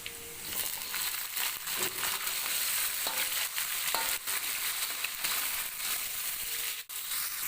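Spices frying in hot oil in a pan make a loud, dense, continuous sizzle with fine crackling and a few sharp clicks, heard close up without talk.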